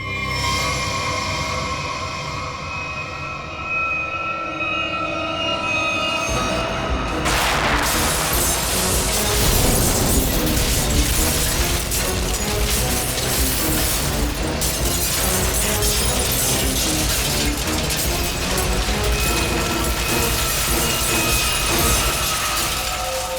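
A bomb blast in a city, as staged in a CID crime drama: a roar of broadband noise bursts in after a few seconds and holds loud and dense, thick with crackling debris, until the end.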